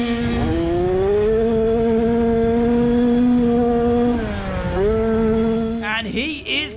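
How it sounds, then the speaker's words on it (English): KTM motocross bike engine held at full throttle, a loud, sustained high-revving drone that dips briefly as the rider shifts, then climbs again before a short burst of louder racing noise at the end. "he is pinned, twisting the grip off of that KTM there"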